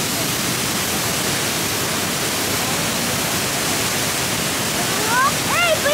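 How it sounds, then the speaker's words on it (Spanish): Iguazu Falls pours with force in a dense, constant roar of falling water that fills the whole clip, loud and close, and a few faint whistle-like sounds surface near the end. "No sé si se ve la fuerza en que cae el agua"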